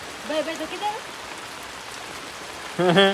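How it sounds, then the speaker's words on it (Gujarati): Steady patter of rain hisses throughout, with voices talking briefly near the beginning and again at the end. "બહાર જો વરસાદ છે"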